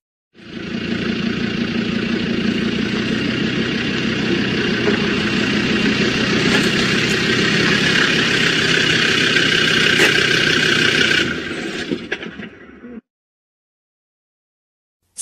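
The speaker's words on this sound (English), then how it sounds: "SUV." A steady SUV engine idle from the video game Landscape, loud and close, with a constant low rumble and buzzy mid-range hum that holds evenly before tapering and stopping.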